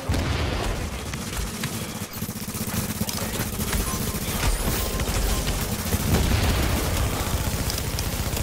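Continuous gunfire and explosions from a multiplayer firefight in the video game Tom Clancy's The Division, a dense, loud barrage of shots and booms filling the whole stretch without pause.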